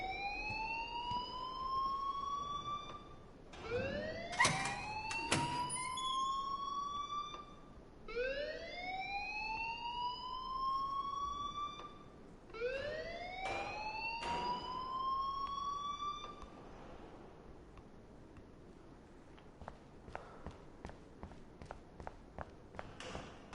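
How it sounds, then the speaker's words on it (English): A rising and falling siren-like alarm wails in repeated sweeps inside the Life is Strange video game, loud and close, then gives way to a series of quick footsteps near the end. "please turn off that alarm since that's your job"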